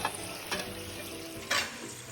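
Fried chicken pieces dropped into boiling chili sambal in a pan, giving a steady close sizzle with two or three sharp bursts of stirring and spattering.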